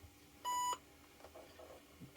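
An IBM ThinkPad 380E retro laptop gives a single short electronic startup beep, clear and close, over a faint background hum while booting Windows 98 on a battery.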